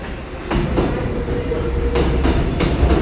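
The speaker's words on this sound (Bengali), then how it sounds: "ওই যে আমার ট্রেনটা আসতেছে।" A subway train arrives in an underground station with a loud, rising rumble, rhythmic wheel clatter over rail joints and a steady roar that fills the space.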